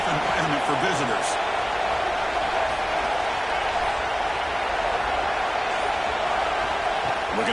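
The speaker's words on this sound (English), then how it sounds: "Listen to the crowd energy here in the early going." Steady stadium crowd roar from a college football video game, a broad continuous wash of voices filling the whole stretch at even loudness, with faint commentary-like voices low underneath.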